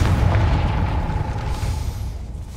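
Confringo fire spell blasting a gate in the video game Hogwarts Legacy, a deep rumbling boom that holds loud for a couple of seconds with a low roar trailing off.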